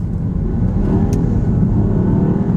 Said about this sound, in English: I'm gonna go ahead and put it up into the power mode, which immediately does kick on the gas engine